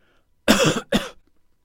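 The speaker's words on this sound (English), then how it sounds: "use trimming to remove this cough from the recording" Two sharp coughs in quick succession, close and loud, with a short gap between them and silence on either side.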